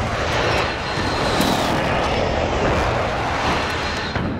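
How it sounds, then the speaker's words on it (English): An allied precision airstrike aircraft in Call of Duty Modern Warfare roars overhead as a loud, steady engine drone, broad and unbroken for the whole stretch. "Allied precision airstrike incoming."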